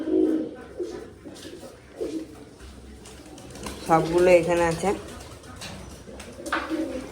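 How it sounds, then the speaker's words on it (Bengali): Pigeons cooing inside a loft, soft repeated throaty coos with one louder burst midway, while someone talks over them. "এখানে রয়েছে সব পায়রাগুলো,"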